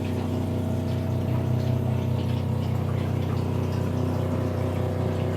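Steady rushing water runs out of RV water lines continuously under a low mechanical pump hum, close and constant with no pauses.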